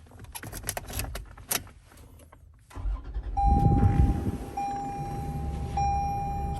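A 2022 Toyota 4Runner Trail is started with a blade key: a few key and switch clicks, a brief starter crank, then the engine catches and settles into a steady idle with a faint chime tone over it, heard close inside the cabin.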